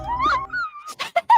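A dog whines and moans in drawn-out, wavering cries, followed by a few short, sharp yelping bursts near the end.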